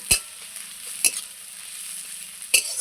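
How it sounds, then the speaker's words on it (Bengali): Onions fry in a pan until reddish-brown, a steady high sizzle broken by three sharp scrapes of stirring, close and moderately loud with no voices. "পেঁয়াজটা আমি খুব সুন্দর করে লাল লাল করে ভেজে নিচ্ছি।"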